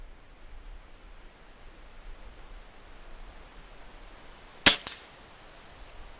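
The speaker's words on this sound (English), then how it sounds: "you barely see I'm shooting at my angle" A single Weihrauch HW30s .22 air rifle shot rings out near the five-second mark, a sharp crack with a brief tail, set against steady outdoor background hiss with no talk.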